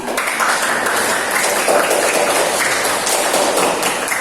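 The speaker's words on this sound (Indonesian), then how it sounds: "Tepuk tangan untuk kelompok audio dan visual" Students in an Indonesian language classroom applaud a group, a close, continuous rattle of many hands clapping at an even level throughout.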